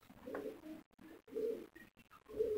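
Pigeon cooing at close range in a Lahore pigeon-keeping setting, several soft low coo phrases in a broken rhythm with short quiet gaps, no speech over them.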